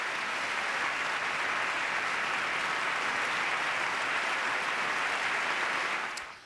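A large audience stands and applauds in sustained, dense clapping, loud and steady throughout, fading out at the very end.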